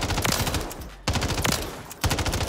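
MTZ 556 assault rifle with a 50-round drum firing in Rebirth Island, in three sustained full-auto bursts, each a rapid stream of loud, close shots separated by brief pauses.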